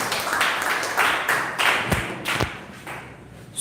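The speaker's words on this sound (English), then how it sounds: "So big round of applause to welcome him" A small audience at a student speaking practice session in an institute hall gives scattered, loosely timed claps to welcome a speaker, a handful of sharp nearby slaps that thin out toward the end.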